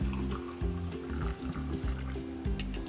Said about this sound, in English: you boil your water and you add it into your favorite cup